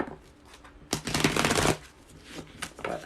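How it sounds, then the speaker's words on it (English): A quick riffle shuffle of playing cards, a dense ruffling burst lasting under a second, with softer handling clicks around it. "One more quick shuffle"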